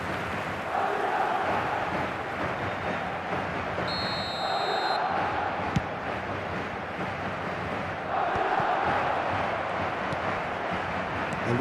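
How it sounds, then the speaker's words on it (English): Football stadium crowd in a steady, distant roar of chanting and cheering that swells a little at moments, with no talk over it. "The crowd are calling for this to be put to bed."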